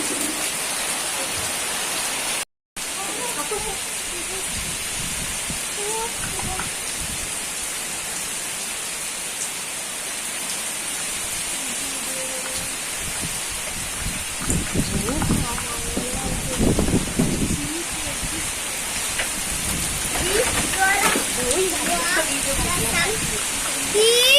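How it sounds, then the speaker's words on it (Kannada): Heavy rain hisses in a constant, dense wash, with gusts of wind swelling through it and faint voices in the distance. "ಅಷ್ಟು ಜೋರು ಬರ್ತಾ ಉಂಟು ಮಳೆ ಮತ್ತು ಗಾಳಿ"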